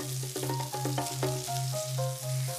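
Pork chops simmering in a pan of tomato sauce, a steady close sizzle and bubbling with a low constant hum running under it and light tonal clinks scattered across the top.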